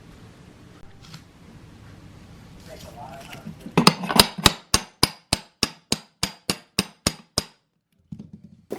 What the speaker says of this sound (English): slide it back in, tap it in from this angle